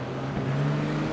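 GT3 race cars are racing at Road Atlanta in the iRacing game, with several front-engined cars packed closely together. A steady, loud engine drone holds a sustained tone throughout, with no talk over it.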